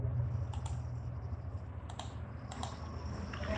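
Keys clatter on a computer keyboard in short, scattered bursts of typing, close and moderately loud over a steady low hum, while someone searches online for software to download.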